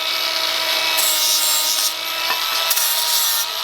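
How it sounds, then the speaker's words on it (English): A power saw cuts through an exhaust pipe for a custom Lexus IS300 system, a steady, loud, close rasping grind that holds continuously with slight shifts in pitch and a few brief clicks. "This saw's got more power than my FRS."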